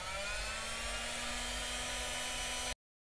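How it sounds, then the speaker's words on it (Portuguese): An embossing heat gun runs close by in a steady, loud, even whir with a faint hum beneath, then cuts off abruptly near the end. No one speaks. "Enquanto isso, eu vou passar o secador de emboss aqui."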